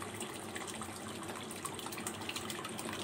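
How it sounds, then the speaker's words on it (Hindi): Water pours into a cooking pot of black chickpeas on a lit stove as a pulao is being prepared. It makes a continuous gushing, splashing fill sound at low volume, with no voice over it. "फ्लेम को मैंने ऑन कर दिया है और अब मैं इसमें पानी ऐड कर दूँगी"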